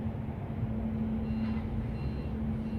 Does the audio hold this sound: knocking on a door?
no